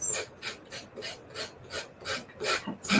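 Hand sanding a curve on a small wooden cutting board, with rhythmic back-and-forth rasping strokes, about a dozen of them, close and even, without talk.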